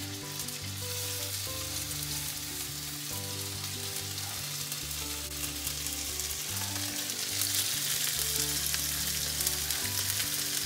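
Steady, close sizzling and crackling of small chicken pieces frying in a very hot pan, continuous throughout and growing slightly louder toward the end.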